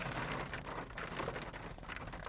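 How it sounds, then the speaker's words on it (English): Steady rain mixed with snow falling at a creekside off-grid campsite near Buena Vista, Colorado, during Subaru camping: a dense, continuous hiss of drops on surfaces, fairly loud and even, with no voices. "Raining and snowing."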